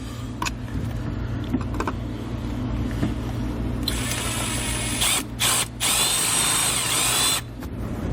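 A power drill drives self-tapping screws to mount a Redarc Tow-Pro Elite trailer brake controller on a 2018 Toyota, with steady motor whine and several short on-off bursts as each screw bites, close and loud.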